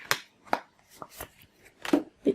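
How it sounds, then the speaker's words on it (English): Tarot cards shuffled by hand at close range, a string of quick papery riffles and taps in uneven bursts, with no voice. "hopefully you can hear the shuffling"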